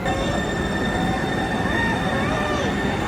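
A light rail train rumbles past close by at a station in Bellevue, Washington, with steady rolling noise and faint wheel squeal, continuous throughout.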